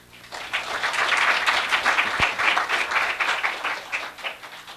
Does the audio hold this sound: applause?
yes